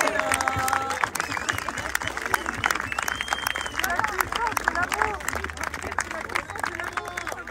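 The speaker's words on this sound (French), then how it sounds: "Vous pouvez vous applaudir vraiment très fort." A large crowd at a political support rally for Martine Wonner claps steadily with cheers and scattered voices, dense and sustained throughout without a break.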